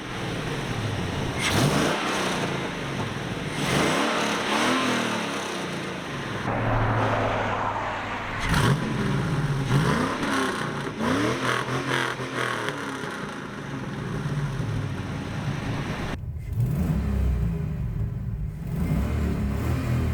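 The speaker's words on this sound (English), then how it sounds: "Pro Mufflers, no header or no catalytic converters, it sounds just like a stock Suburban" An LS-swapped El Camino runs with Pro Mufflers exhaust, no headers and no catalytic converters. The engine idles with a deep rumble, then revs up and down repeatedly, loud and close, with no talk.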